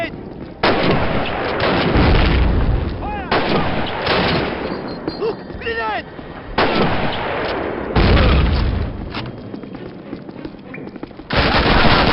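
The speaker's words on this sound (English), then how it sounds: "Enemy grenade!" A grenade goes off in a Call of Duty battlefield firefight, with loud, booming blasts and heavy bursts of rifle and machine-gun fire starting and stopping in hard-edged waves, and shouted voices between them.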